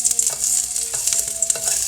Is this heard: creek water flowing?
no